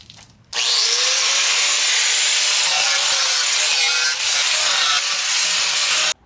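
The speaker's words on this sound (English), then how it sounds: "I'm done grinding down the welds and kind of cleaning everything up" A Dremel or angle grinder grinds down welds on a Miata front end, a loud, steady high-pitched whine that starts abruptly, runs continuously for several seconds and cuts off sharply.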